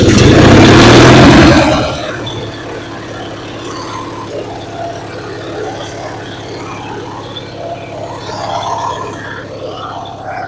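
A free lawn mower's engine running after a restart, a loud close roar for about two seconds that then drops to a steadier, quieter idle hum.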